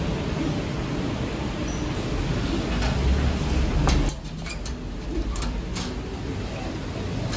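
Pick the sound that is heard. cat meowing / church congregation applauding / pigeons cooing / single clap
pigeons cooing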